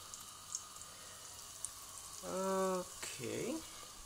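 A cheese pancake (syrnyk) fries with a quiet, steady sizzle crackling in the background, with a couple of brief clinks and a short spoken word near the end.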